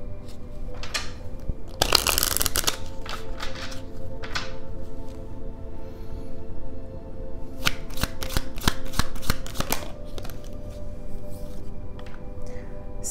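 Tarot cards are shuffled close by, with a loud burst of riffling near the start, then a long soft card-rubbing texture and a later run of crisp slapping flicks.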